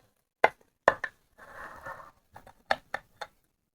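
A knife cutting through a pumpkin crumb cake makes several sharp, close chopping knocks on the board, with a soft crumbly scraping rasp between the first and second groups of strikes.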